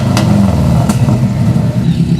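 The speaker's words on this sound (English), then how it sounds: "Rev it up a little bit." A Subaru WRX engine revs with its silencer removed, blaring through a cheap Wish.com aftermarket exhaust as a loud, steady, close drone with brief rising surges.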